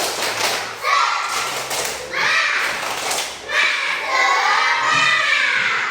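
Second-grade children in a classroom clap a rhythmic spirit cheer together, loud bursts of patterned claps and thumps mixed with their chanting voices.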